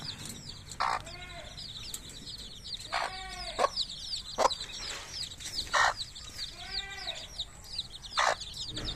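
Hens give short, scattered clucks over a constant chorus of high, thin peeping from newly hatched chicks nearby.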